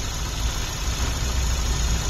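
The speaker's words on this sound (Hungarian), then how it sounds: "Tehát jár a motor, hihetetlen" A Nissan Note 1.4 engine idles in a steady, low, even rumble with faint belt whir, held at a constant level for about two seconds with no talking.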